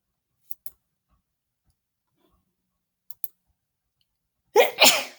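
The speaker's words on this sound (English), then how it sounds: "Sneezing." A single loud, close sneeze near the end, preceded by two pairs of sharp light clicks in otherwise near-silent surroundings.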